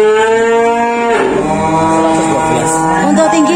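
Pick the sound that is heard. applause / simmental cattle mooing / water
simmental cattle mooing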